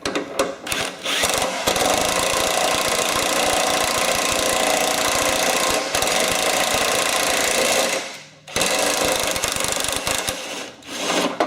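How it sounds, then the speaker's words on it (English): An impact wrench tightens the spindle nut on a Craftsman/Husqvarna riding mower deck, giving loud, close, rapid rattling hammering in long sustained bursts broken by a brief pause. "I'm going to use the impact"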